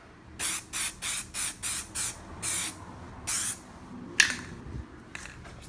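A spray can lays light coats of Plasti Dip onto the GT emblem of an S550 5.0 Mustang in a home garage. About eight short, close hissing bursts come in quick rhythm, then two longer sprays followed by a faint clunk.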